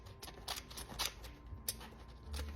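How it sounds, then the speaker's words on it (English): Scissors snipping straight down through a paper box during a DIY Christmas cookie holder craft, a few crisp close cuts over a faint room hum, no talking. "just grab my scissors and cut straight down,"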